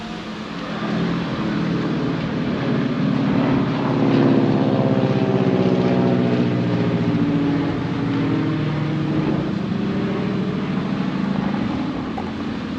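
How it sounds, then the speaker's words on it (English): A T-6 Texan trainer with a big radial engine drones overhead, a steady, fairly loud propeller rumble that holds for over ten seconds with a slowly shifting pitch as the plane passes. "never can mistake those going overhead. That's I believe that's Lone Star's T6 Texan."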